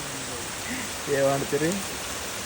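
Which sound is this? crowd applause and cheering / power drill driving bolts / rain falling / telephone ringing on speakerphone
rain falling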